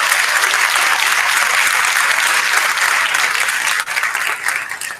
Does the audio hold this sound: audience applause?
yes